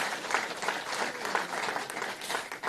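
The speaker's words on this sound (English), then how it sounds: "Give yourselves a big round of applause" Attendees at a post-hurricane reconstruction conference in Jamaica applaud themselves, a full, continuous round of clapping from a sizable crowd in a hall, steady in level without voices over it.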